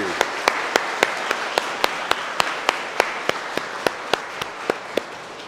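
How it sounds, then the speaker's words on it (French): A church congregation applauds the fathers on Father's Day, with a steady, evenly paced clap beat standing out sharply above a continuous bed of general applause. "De tout cœur, on peut se mettre d'applaudissements."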